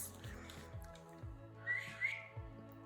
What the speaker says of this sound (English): Don't judge my whistling. I know it's terrible.